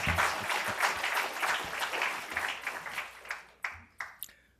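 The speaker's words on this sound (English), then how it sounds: "Y'all can clap." Lecture audience applauding at the end of a humorous story, steady dense clapping that thins out into a few scattered, isolated claps before stopping.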